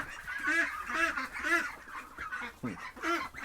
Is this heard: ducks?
yes